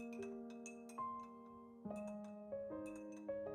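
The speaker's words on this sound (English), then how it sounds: "I just love that sound of the ice swishing around in my glass." Ice cubes clinking against a glass of iced Vietnamese coffee, a few bright, close chimes and taps spaced apart over a steady ringing tone, no voices.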